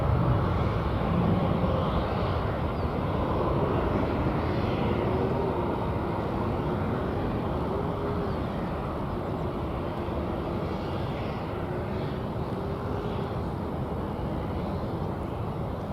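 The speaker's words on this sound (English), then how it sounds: "what you saw pass in front of that aircraft was an American 777, which is coming out of the hangar area here on the west" An American Airlines Boeing 777 taxis out from the hangar area at DFW Airport, giving a steady, moderately loud jet engine rumble and whine that holds evenly for the whole stretch, with no talking.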